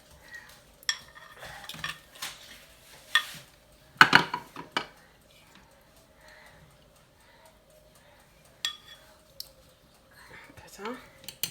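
Merguez mixture being emptied into a gratin dish, quiet scraping and clinks of a utensil against the dish in scattered bursts, with soft speech in between.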